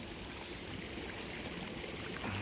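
A stream of flowing water gives off a steady, dense rush that fills the whole short stretch evenly, close and continuous with no voices over it.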